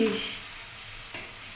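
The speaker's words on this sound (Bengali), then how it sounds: "বেগুন আলু বেগুন পেঁয়াজ আর ডিম ভাজা হচ্ছে" Eggplant, potato, onion and egg frying in a pan give a steady, fairly quiet sizzle and hiss with a small clatter of stirring near the end; no one speaks.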